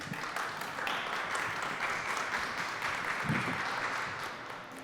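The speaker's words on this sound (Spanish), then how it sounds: "Démosle un fuerte aplauso." Applause from the audience at a university short-talks event in Monterrey, a sustained dense wash of many hands clapping that holds steady for several seconds and eases slightly at the end.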